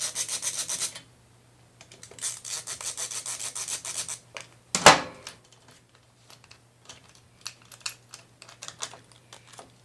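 Phillips screwdriver backing screws out of the carburetor on an Echo HC2400 hedge trimmer, a run of short scraping, ratcheting turns with brief pauses and one sharp knock in the middle, close by with no talk.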